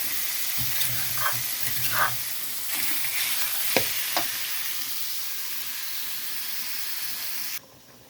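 Pork sizzles and hisses steadily as it is stir-fried in a hot pan, with occasional scraping clinks of a utensil stirring, close and continuous.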